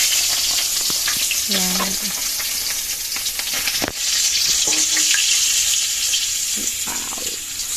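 Fish frying in a pan for pinakbet, a loud, constant crackling sizzle up close, with running tap water and brief voices in the kitchen.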